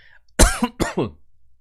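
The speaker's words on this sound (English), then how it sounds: "I apologize if I coughed into your ear just now." A man coughs once, a sharp close burst followed by a second rougher cough and a brief throat-clearing rasp, loud and isolated against near silence.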